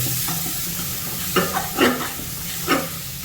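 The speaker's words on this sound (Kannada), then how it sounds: "ಅದಕ್ಕೆ ಟೊಮೆಟೊ ಹಾಕ್ಕೊಂಡು ಸರಿಯಾಗಿ ಕಲಸೋದು" Tomatoes stirred into onions in a frying pan, a steady sizzle with several distinct scraping stirs of a spoon against the pan, close and alone without talk.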